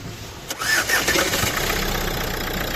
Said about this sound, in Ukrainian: Так, запуск двигуна слухаємо.